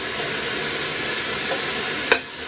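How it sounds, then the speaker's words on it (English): Minced beef frying in a pan gives a steady close sizzle and hiss, with a single short clatter near the end. "So we'll get this meat cooking."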